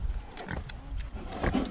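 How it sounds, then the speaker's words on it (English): Pigs grunt and oink on a farm, low snuffling grunts close by, short and continuous, heard as they wait for a treat. "The pigs are probably looking forward to their treat."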